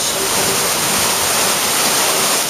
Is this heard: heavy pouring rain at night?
yes